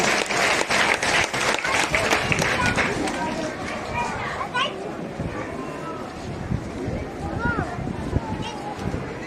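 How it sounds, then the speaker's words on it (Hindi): Loud applause from an audience at a Holi Milan celebration for a group of children, dense clapping that fades somewhat midway, with crowd chatter and voices mixed in. "इन बच्चों के लिए एक बार जोरदार ताली होना चाहिए कि नहीं?"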